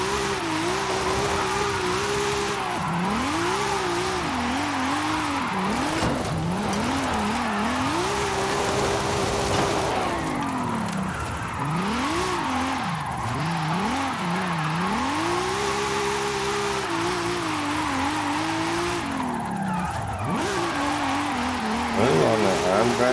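A car drifts in the video game Forza Horizon 5, the engine revving up and down in repeated swells and dips throughout, with someone talking over it.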